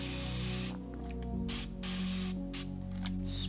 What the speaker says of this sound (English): I actually have it in a special spray mister.